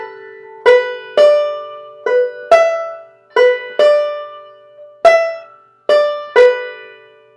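A banjo phrase in 3/4 time played slowly and close, clear plucked notes and chords picked one after another in an unhurried rhythm, each ringing briefly before the next.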